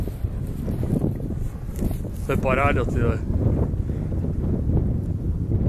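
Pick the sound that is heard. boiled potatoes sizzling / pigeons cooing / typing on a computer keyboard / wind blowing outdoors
wind blowing outdoors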